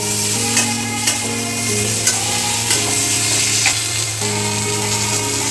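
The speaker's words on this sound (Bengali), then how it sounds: "এবার সব কিছু ভালো করে মিশিয়ে নিয়ে ভেজে নেব।" Prawns with a little turmeric being stirred and fried in a pan, a steady sizzle with scraping spatula strokes and occasional sharp clicks, close and continuous with no talking.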